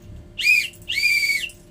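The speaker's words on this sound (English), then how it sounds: "if you hear me whistle once, like this, while waving this red flag, it means you have 5 minutes to roam around the area." A tour guide's whistle signal on a tour in Batanes: a clear, close, high-pitched whistle sounding as two bright notes in quick succession, alone against a quiet background.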